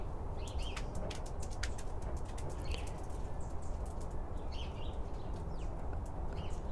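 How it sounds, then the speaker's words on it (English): Birds chirp and call in quick bursts, with a few soft coos, over a constant rushing outdoor background. "Listen to the birds."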